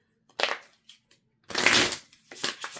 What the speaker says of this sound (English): I'm going to try to shuffle